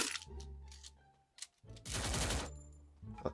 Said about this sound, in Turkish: MP5'in sesi sesler çok farklı.